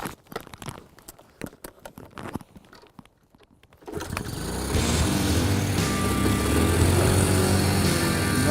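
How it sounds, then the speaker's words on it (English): A Honda C90 motorbike is kickstarted, with several sharp mechanical kicks and clunks followed by the small engine catching and settling into a steady, loud, close putter. "that starts with starting it, because of course it's a kickstart, not electric"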